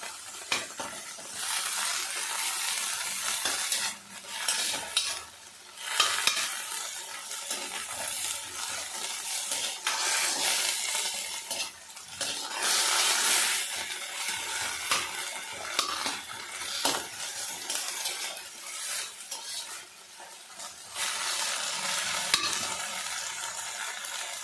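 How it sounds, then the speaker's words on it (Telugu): Fenugreek (menthi) leaves fry and get stirred in a pan for a pacchadi, a steady sizzle with repeated scraping and clinking of a spoon against the metal, close and continuous with no talking. "ఏం నీరు ఉండకుండా ఫ్రై చేసుకోవాలి."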